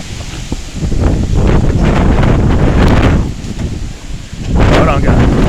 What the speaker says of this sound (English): Listen to that wind, guys.